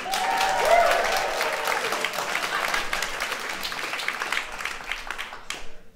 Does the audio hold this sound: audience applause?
yes